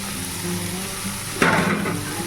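Fish roe frying in a pan with cauliflower, potato and tomato gives a steady close sizzle, which swells into a louder, crackling burst partway through and stays strong to the end.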